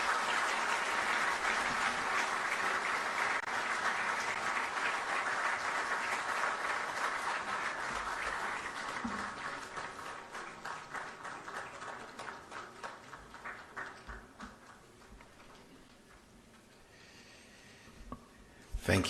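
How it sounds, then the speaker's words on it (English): Sustained crowd applause fills the room at the swearing-in ceremony of Ghana's Chief Justice, loud at first and then thinning into scattered claps as it fades out. "Another round of applause, please."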